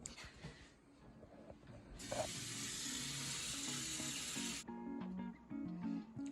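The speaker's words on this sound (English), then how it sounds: "I'm just gonna add some water to this" Water pours into a pot in a home kitchen as a steady, hissing stream lasting a few seconds, fairly close, with quiet clinks before and after.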